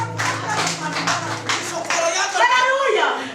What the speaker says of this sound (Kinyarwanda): Komereza amashyi.